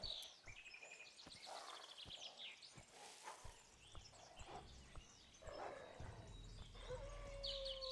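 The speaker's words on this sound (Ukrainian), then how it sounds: "Хтось гавкає. Вовки якісь, чи що вони? Це койоти." Coyotes howl in the video game Survival: Fountain of Youth. There are several faint, distant yips and wavering howls among birdsong and ambient forest sound, with brief clicking noises and no speech.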